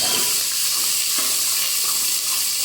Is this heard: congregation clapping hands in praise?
no